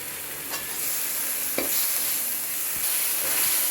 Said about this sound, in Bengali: ভালো করে আমরা এবার মশলাটা ভেজে নেব